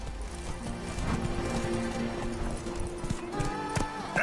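Hooves of Roach, the horse in The Witcher 3, clip-clopping in a steady rapid rhythm, loud and close, with a brief whinny near the end.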